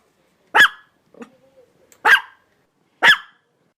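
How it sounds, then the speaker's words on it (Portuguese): A dog barks three times in short, sharp bursts, with a faint low whine between the first two barks. "O latido do cachorro tem um som curto."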